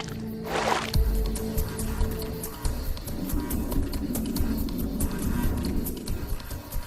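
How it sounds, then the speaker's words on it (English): A male fish flicks its tail to splash water onto its eggs, giving a close, steady wet splashing and dripping that runs continuously, with a brief louder squelch near the start. "he splashes water on the eggs to keep them wet"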